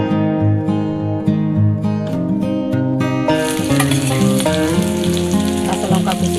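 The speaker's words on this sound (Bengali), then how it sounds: "এতে এবার আমি পেঁয়াজ কুচি দিয়ে দিচ্ছি।" Chopped onions frying in oil with whole cloves, bay leaf and cumin for a spicy mushroom curry, a steady close sizzle that grows brighter and louder partway through, beneath a continuous layer of music.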